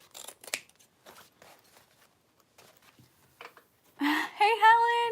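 Scissors trim the raw edge of fabric in a few brief, quiet cuts spread through the clip, with a voice speaking in between and a louder stretch of talk near the end.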